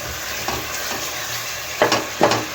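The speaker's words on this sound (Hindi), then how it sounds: "अब हम इस मसाले को भून लेंगे।" Tomato masala for whole masoor dal frying in a pan under a constant sizzle, with a few scraping strokes of a spoon stirring, two louder ones near the end.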